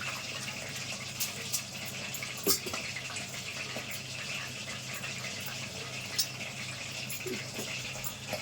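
Water pouring off soaked rice being drained for mutton biryani, a steady close gush of running water with a few light knocks and splashes, no voices.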